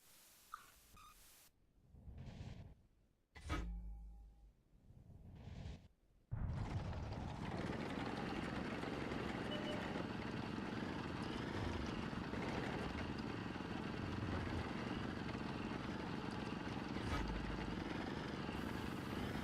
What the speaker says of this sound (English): What I also like about the Bison or Bison is the sound of the engine. It's that purr.